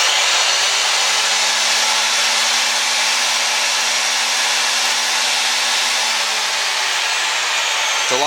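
A power drive threading machine cuts threads on black steel pipe, giving a loud, constant high-pitched whine with a steady low drone that runs unbroken and close throughout.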